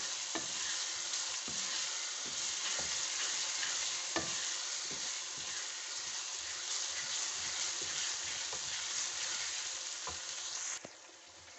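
Continuous sizzling of chillies and ginger-garlic paste frying in hot oil, fairly close, with occasional stirring clicks and no voices.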